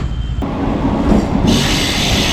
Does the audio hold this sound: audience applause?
no